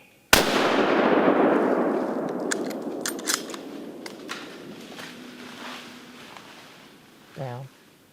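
A single loud gunshot rings out during a deer hunt in the Alabama woods, its sharp crack followed by a long rolling echo that slowly fades, with a short voice near the end.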